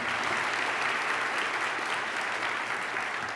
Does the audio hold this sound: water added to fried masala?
no